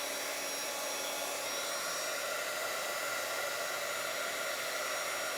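A hair dryer blows a steady, even whoosh over a wet journal page, continuous and moderately loud with no talk.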